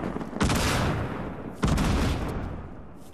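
Two loud bursts of Fortnite gunfire, each a sharp blast trailing off into noisy rumble, about a second apart, with no talking.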